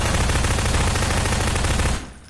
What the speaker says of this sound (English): I heard people shooting!